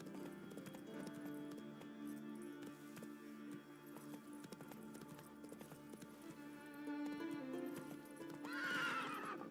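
Roach the horse from The Witcher 3 gallops with rhythmic clip-clop hooves, then gives a loud, rising neigh near the end, set over a low musical game backdrop.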